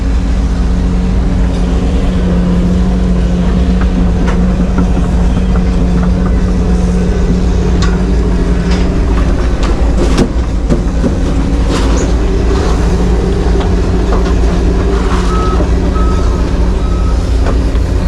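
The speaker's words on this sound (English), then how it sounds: "The wheel machine just spit it out the side." A heavy wheel trencher digs a 30-inch farm drainage main through sandy topsoil, giving a constant loud mechanical drone with tonal hum, scattered clanks and faint beeping throughout.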